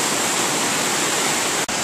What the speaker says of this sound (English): Creek's totally manageable. All that stuff is good, water's running really clean